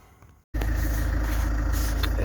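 A 2012 Land Rover Freelander 2 heater fan motor switches on after a brief silence and runs at a loud steady whirring hum until the end.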